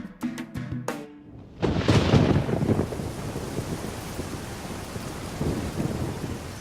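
Rain and thunder over the Masai Mara in March: a few soft clicks give way to a loud rolling thunder crash, then a steady wash of heavy rainfall that continues to the end.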